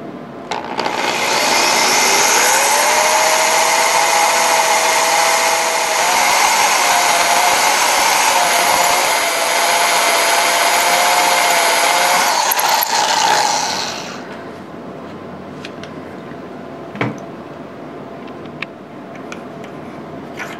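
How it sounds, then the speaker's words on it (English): A drill bores a hole in metal for a DRO mount on a South Bend 13-inch lathe, giving a loud, steady whirring whine for about fourteen seconds before cutting off into quiet shop background. "I center punched it, and now I started the drilling."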